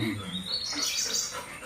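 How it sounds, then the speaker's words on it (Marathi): A bird chirps and trills faintly at a distance over quiet background insect buzzing. "तेव्हा पक्षी ओरडतोय"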